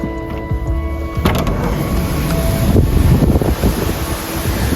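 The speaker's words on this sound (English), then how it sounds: "It's a little rainy, windy, a little choppy." Wind buffets the microphone outside on the deck of the Viking Neptune cruise ship at sea in rainy, choppy weather, a steady loud rushing roar with gusts and low rumble throughout.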